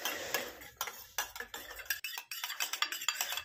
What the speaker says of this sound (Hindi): चम्मच से इसको मेरे को खूब हिलाएंगे